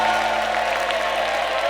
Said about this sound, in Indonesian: Tepuk tangan dulu buat ketiga selebriti kita.